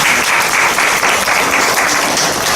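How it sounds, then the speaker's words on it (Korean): Loud, sustained applause from the audience at a book launch celebrating a newly published prose collection, with dense, steady clapping filling the whole stretch and no voices above it. "박수 한번 부탁드립니다."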